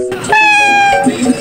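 A cat meows once, clearly and close, in a single sustained call that is followed by a softer trailing sound.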